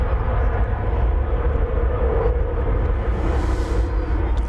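An Embraer airliner at DFW Airport gives off a steady, loud engine roar that holds throughout, with a faint hiss rising near the end.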